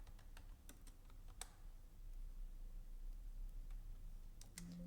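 Scattered clicks of a computer keyboard sound while a product name is typed into a purchase-management software form, with soft irregular taps over a quiet room hum.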